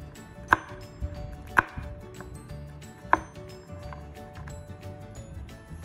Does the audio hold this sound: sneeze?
no